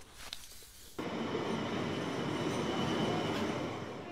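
Metro Express commuter train running on rails: after a quiet second, a loud, steady roar of wheels and motors rushes in and holds, close and continuous with faint squeals.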